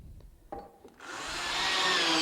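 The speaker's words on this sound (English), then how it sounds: "Then we just drive the screws in." A couple of light taps precede a power driver sinking wood screws into a wooden bed rail; the motor kicks in and runs as a steady, close, gradually building whir to the end.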